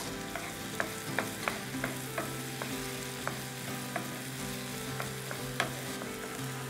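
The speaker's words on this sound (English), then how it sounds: "Now let this saute for about 2 to 3 minutes until the onions are soft." Onions and garlic sauté in a pan, a soft, even sizzle with regular spatula taps and scrapes every half second or so, close but fairly quiet, no speech.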